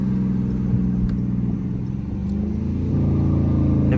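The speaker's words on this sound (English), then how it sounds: "Gonna bust a U-turn right here." A Dodge Charger R/T making a U-turn on a late-night drive, its engine a loud, close, continuous low rumble that rises slightly in pitch near the end as the car accelerates, with no talking.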